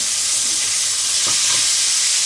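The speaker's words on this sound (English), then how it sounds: "That's when I'm also adding my curry leaves and also onions." Curry leaves and onions hit hot oil in a pan, making a loud, steady, hissing sizzle throughout with a faint stir partway through, no talking.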